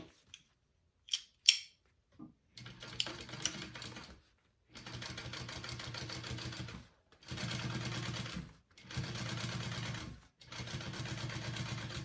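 A sewing machine top stitches a fabric bag in several steady bursts of rapid mechanical whirring, each a few seconds long with short pauses between, preceded by faint handling clicks.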